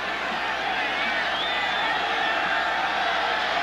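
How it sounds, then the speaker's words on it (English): Stadium crowd at a Green Bay Packers versus Atlanta Falcons NFL football game, a steady broad roar of cheering and whooping that holds evenly throughout, heard from a distance. "when they're going now they got the crowd going"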